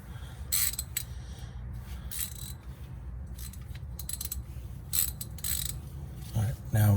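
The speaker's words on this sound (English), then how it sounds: "Let's make sure the wrench is the right direction first." A ratchet wrench is used while working on an oily 1999 Toyota Sienna. Short bursts of sharp metallic clicking come close up over a low background hum, with a clunk near the end and no talking.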